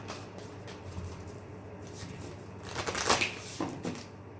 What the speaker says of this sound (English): it would be amiss of me if I didn't shuffle this deck for